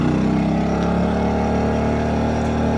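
Predator portable generator running with eco mode switched off, its engine holding a loud, steady high-idle drone with a strong low hum and a faint rise in pitch, no voices present.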